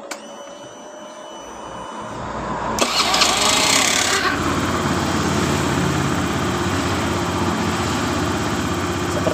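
A Honda Beat FI motorcycle engine is started after a quiet moment, catching abruptly and then settling into a steady close idle with a whirring hum.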